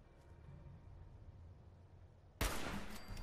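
A single sudden gunshot in the video game Fallout 4, a loud sharp blast breaking a low ambient hum near the end, with a short noisy tail afterward.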